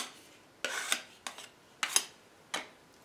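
A trowel drags across tile adhesive on a kitchen cabinet toe kick, making four short rasping scrapes spaced about half a second apart, close and without talk.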